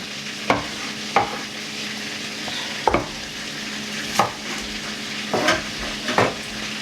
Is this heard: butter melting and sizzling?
yes